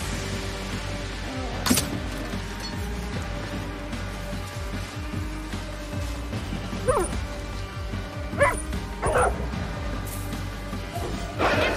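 A dog in the video game Far Cry New Dawn barks and whimpers in several short, sharp bursts, fairly close, with in-game ambient noise running steadily underneath.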